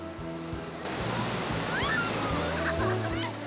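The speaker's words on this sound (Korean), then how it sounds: "동해 바다에 오더라도 오늘 같은 파도를 만나기는 쉽지 않죠." Waves surge and break along the East Sea coast of Korea in a steady, broad wash of surf, with wind noise and a faint bird call or two over the roar.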